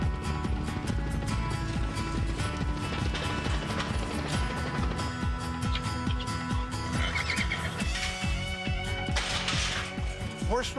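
Wild mustangs being herded by wranglers whinny and neigh over a steady rumbling clatter of hooves, loud and close, with a shrill neigh rising near the end.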